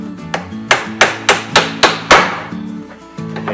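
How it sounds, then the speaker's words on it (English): Nails being hammered into a wooden beehive screened bottom board set in a vise: a series of about eight sharp, ringing hammer strikes in a quick even rhythm, loud and close, with no talk. "The easiest way I find to nail those is just set it on the vise like that."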